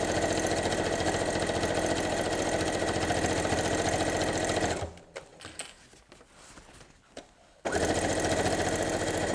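Sewing machine stitching binding on fabric bunting, a fast steady mechanical whir close up that stops for a few seconds of quiet handling sounds, then resumes at full pace.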